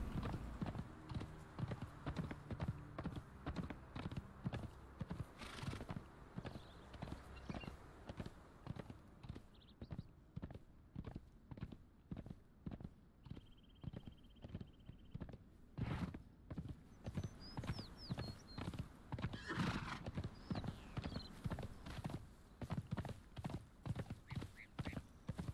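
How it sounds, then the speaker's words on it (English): Steady, rhythmic clip-clop of horse hooves walking in the Conan Exiles game, continuous and moderately loud throughout, with an occasional faint whinny. "I think there are horses around here."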